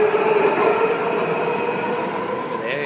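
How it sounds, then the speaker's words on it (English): Newer Sydney Trains car in motion, sharing the same sound as New York subway trains: a steady loud rolling rumble with a sustained whining tone, and a brief rising motor whine near the end. "You may recognize the sounds from the New York subway on the newer trains"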